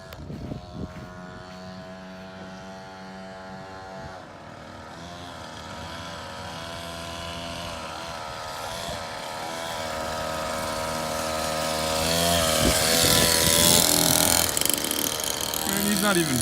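A small 49cc dirt bike engine runs with a buzzing, harmonic whine that slowly climbs in pitch and loudness, close by, while people talk over it.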